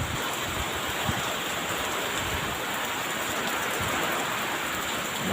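Typhoon-force wind and heavy rain pound steadily, a dense continuous roar of downpour and gusts close by with no pauses and no voices.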